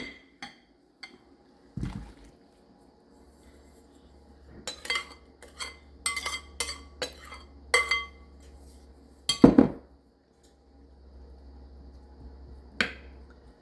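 Ingredients for a pineapple casserole are dumped into a sprayed casserole dish, giving scattered clinks and taps of utensils and glassware, then a louder thud and scrape near the end, with quiet pauses between.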